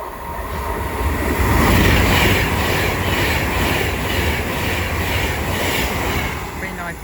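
A passenger train from London Euston to Edinburgh passes on the West Coast Main Line at Watford Junction, a loud, steady, close rumble with wheel clatter throughout.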